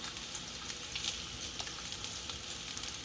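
Butter melting and sizzling in a hot pan for a simple breakfast, a steady close crackling hiss with faint pops, continuous and alone.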